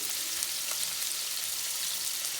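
A beef roast sears in hot oil in a pan, giving a steady, even sizzle that does not pause, close and fairly soft, with no talk.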